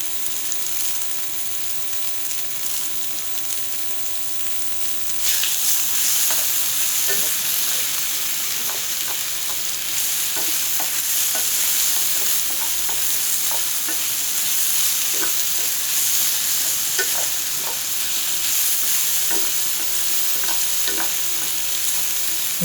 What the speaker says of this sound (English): the real key to stir frying is just to keep everything moving. High heat and motion.